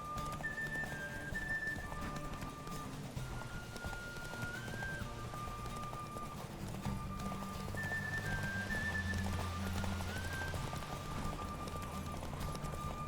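A horse gallops in The Witcher 3: Wild Hunt, its rapid hoofbeats clattering steadily under game music, with soft background noise throughout.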